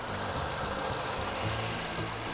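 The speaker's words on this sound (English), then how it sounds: "Then with the engine idling" A Saab 9-3 engine idles with a steady, low, even hum that stays constant and fairly quiet throughout, with no other sounds.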